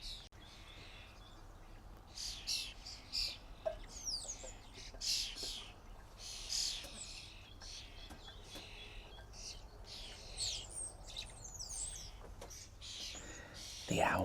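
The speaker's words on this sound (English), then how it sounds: "there are an awful lot of starlings this morning" A flock of starlings calls in a garden on a morning, with scattered bright chirps and whistles coming in bursts at moderate distance over a quiet background, while a person speaks softly.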